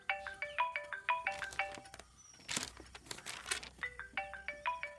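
A phone rings with a repeating electronic tone in short bursts, broken midway by crinkling and rustling noises before the ringing pattern resumes, fairly clear and close.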